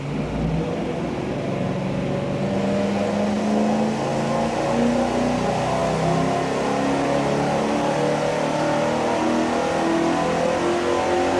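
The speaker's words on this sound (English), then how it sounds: "Here we go with our first test with that Y-shaped merge and the single 3-inch exhaust." A dyno-mounted high-performance engine breathing through a Y-shaped merge into a single 3-inch exhaust with a turbo muffler, roaring loudly and steadily at high revs, its pitch climbing gradually through the whole pull.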